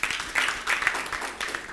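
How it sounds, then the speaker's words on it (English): A crowd applauds at a live event, with continuous clapping throughout the brief moment and no voices over it. "a round of applause for them."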